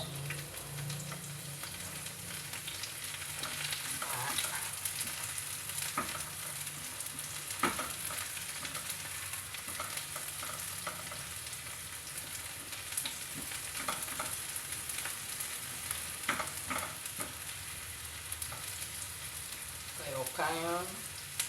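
Onions frying in a pan for a mung bean stew, a steady crackling sizzle with occasional utensil clinks and scrapes, close and moderately loud, with a brief faint voice near the end.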